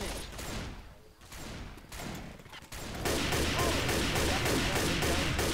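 Rapid gunfire in the zombie shooter Left 4 Dead 2 crackles in dense bursts, sparse at first and then turning into continuous heavy automatic fire, with no one talking.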